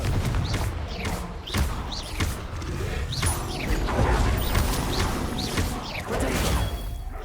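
Hogwarts Legacy spell combat during a dragon fight: repeated booming thumps and whooshing blasts from the Confringo blasting spell, loud and irregular, over a dense game soundscape.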